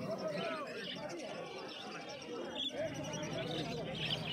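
Lutino lovebirds and yellow-sided and pineapple conures chirp and call continuously at a crowded outdoor pet bird market, a dense mix of bird chatter over steady background noise with voices mixed in.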